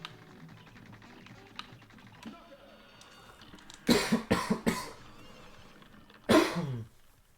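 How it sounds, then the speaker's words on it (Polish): Several sharp, close coughs from a person playing the Cuphead video game: a quick cluster of three around the middle, then one more a couple of seconds later, with no talk. "Mam nadzieję, że moich kaszlnięć nie słychać zbyt mocno na mikrofonie."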